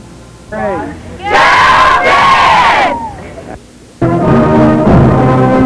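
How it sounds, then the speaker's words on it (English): Cheerleaders and a crowd cheer loudly at a Richfield Redskins high school football game, with bursts of whooping and shouting that rise and fall, then a sustained chanting roar from the stands. "Providing crowd enthusiasm, the noise behind the boys, the Redskin cheerleaders under the direction of advisor Dixie Dimchek"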